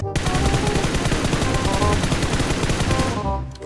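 Rapid automatic gunfire from a mobile battle royale shooter, BGMI, bursts hard and continuous for about three seconds, loud and close, then cuts off abruptly, with no talking over it.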